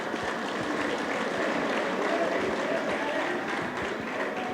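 An audience at a mechanics' guild training talk in Pichincha applauds in a dense, steady patter that holds evenly at moderate volume throughout, with no clear speech over it.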